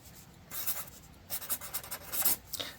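A gray Pentel pen with rapid ink delivery scratches across paper in short bursts of close, soft writing strokes, with quiet pauses between them.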